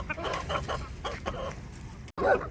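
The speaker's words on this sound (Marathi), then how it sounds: "पाणी प्यायला लागले त्या सगळ्या कोंबड्या" Farm chickens cluck in a steady, busy chorus as they gather to drink water in the early evening, with a short break near the end before the clucking resumes close by.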